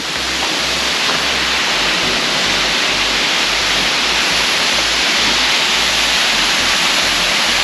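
DeSoto Falls in Alabama, seen from the side, pours as a loud, steady, broadband rush of falling water with a low rumble beneath, unbroken from start to finish and without voices.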